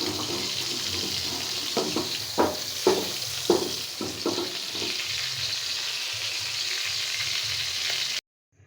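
Large koi fish (climbing perch) frying in oil in a kadai, a steady loud sizzle with a few sharper crackles and spatula scrapes in the middle, then cutting off abruptly near the end.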